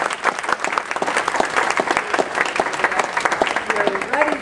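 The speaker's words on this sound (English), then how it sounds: "I'd like a huge round of applause for Roseanne Jones from the Health Departmen" An audience claps loudly and continuously for a guest speaker from a county health department at a talk, dense sustained applause with voices faintly mixed in.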